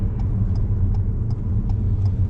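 A car's engine hums steadily at low revs as it slows on approach to a roundabout, a constant rumble with faint periodic ticking and no speech.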